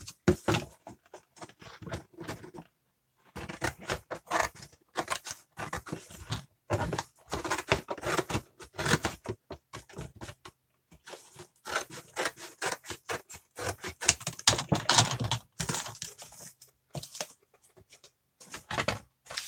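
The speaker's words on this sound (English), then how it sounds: "I'm going to quickly cut off these edges so they ain't in my way" Edges being cut off a cereal-style cardboard box, with short rasping bursts of cutting and tearing that come in quick irregular runs, separated by brief pauses, close and alone.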